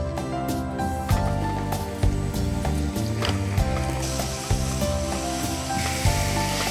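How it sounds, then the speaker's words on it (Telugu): Grated bottle gourd frying in hot ghee in a home kitchen pan, a steady close sizzle with bursts of spatula scraping and clatter throughout. "నెయ్యి కొంచెం వేడయిన తర్వాత అందులో సొరకాయ మనం ముందుగా రెడీ చేసుకుని తురుముని వేసి పచ్చి వాసన పోయే వరకు వేగించుకోవాలి"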